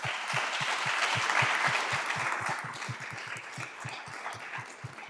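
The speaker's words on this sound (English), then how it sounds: "So let's give everybody a round of applause." Audience applause after a fintech panel at a Boston event, a full room clapping steadily, slightly distant and swelling before easing off a little.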